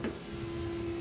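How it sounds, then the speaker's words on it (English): The electric fuel pump of a Chevrolet S10 swapped with a turbocharged 3.0L Mercruiser boat engine primes with a steady, faint mechanical hum, following a brief click at the start. "you'll hear the fuel pump as well"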